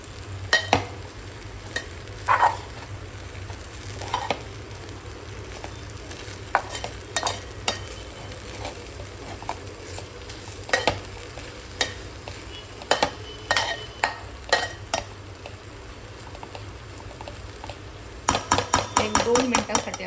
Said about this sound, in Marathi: पुन्हा आपण थोडंसं हलवूया.